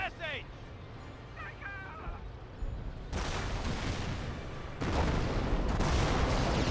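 Artillery barrage fired from half-tracks in the WWII strategy game Company of Heroes: a steady roar of dense rumbling blasts that grows louder in two stages, with faint chirping game sounds early on.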